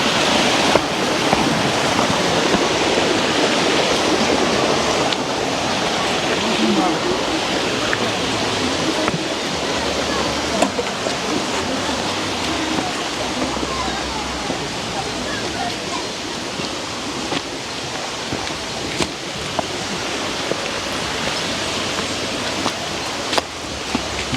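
A river rushes steadily and loudly nearby, a dense continuous roar of flowing water that fills the whole scene.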